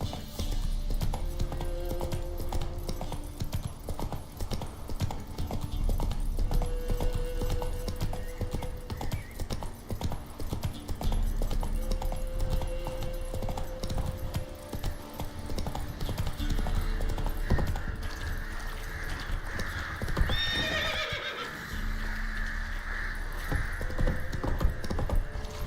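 In Witcher 3 Wild Hunt, a horse's hooves clip-clop in a steady galloping rhythm across the whole stretch, close and continuous, with a whinny near the end over faint background ambience.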